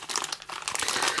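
A large plastic bag of gummy candies crinkles close up in quick, continuous rustling bursts, with no talking.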